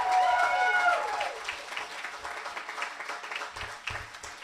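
A small crowd at a backyard wedding reception claps and cheers at moderate volume, the applause sustained under scattered voices.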